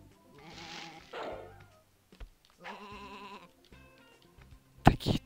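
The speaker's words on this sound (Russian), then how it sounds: "Такие тупые овцы, господи." Cartoonish sheep bleats from the video game Sheep Dog n Wolf on a beach level, several wavering calls spaced across the moment, with a sharp thunk near the end.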